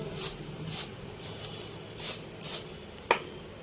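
Black mustard seeds are tossed on a metal plate to winnow out debris, producing rhythmic bursts of close, gritty rattling and rustling, about six shakes with a sharper tap near the end.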